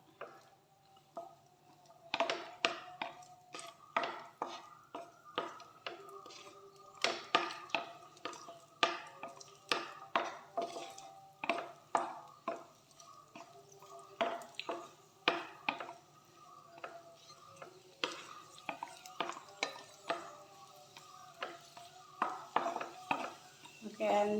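Cashews and raisins are sautéed in a pan, heard as a long run of quick utensil clinks, taps and scrapes against metal, close and irregular, with a faint sizzle and occasional talk.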